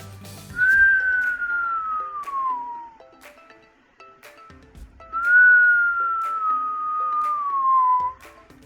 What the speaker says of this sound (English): Can you whistle? Let's whistle together.